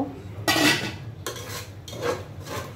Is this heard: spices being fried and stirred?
yes